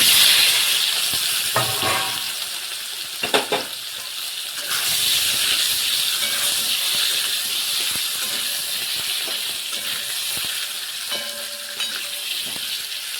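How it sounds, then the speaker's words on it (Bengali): Steady loud sizzling and hissing of potatoes frying in hot oil, with occasional clatters of stirring and a few brief bursts of louder spatter. "ওই তেলে আলুগুলো ভেজে নিচ্ছি।"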